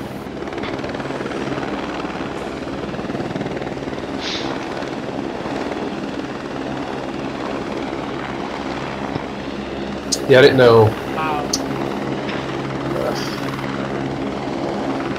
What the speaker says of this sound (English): The chopper's coming again.